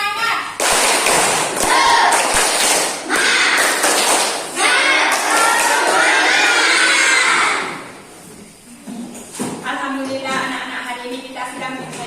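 Children in a classroom perform a rhythmic spirit clap, with bursts of patterned clapping and cheering voices, loud and close, ending in a quieter stretch with talk.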